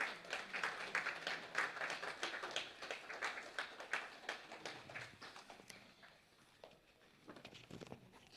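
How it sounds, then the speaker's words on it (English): Applause at an awards ceremony, heard as steady, rhythmic clapping from a modest crowd. It thins and fades midway, then picks up briefly again near the end. "Keep clapping, please."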